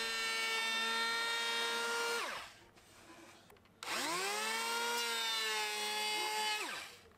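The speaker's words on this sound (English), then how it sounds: "I used my cordless planer for this, taking multiple passes working from each side inwards to avoid tear out at the end." A cordless power planer makes two loud, sustained passes along a wooden shelf for a mid-century ladder-style shelving unit. Each whining pass ends in a falling run-down, with a quieter gap between them.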